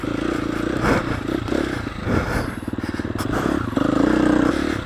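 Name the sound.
KTM 350 enduro motorcycle riding on trail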